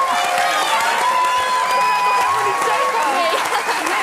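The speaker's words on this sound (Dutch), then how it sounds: "Mag ik een groot applaus voor Tijmen en Britt?" Studio audience applauding on a Dutch television talk show, a dense continuous wash of clapping and crowd noise with a few cheers, loud and steady throughout.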